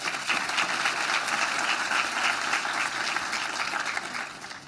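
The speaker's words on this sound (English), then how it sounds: "Let's give them all a huge round of applause." A large audience claps steadily through a dense, sustained round of applause at a legislative breakfast on mental health, with no voices heard over it.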